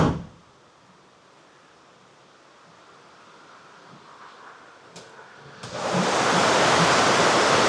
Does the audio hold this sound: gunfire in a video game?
no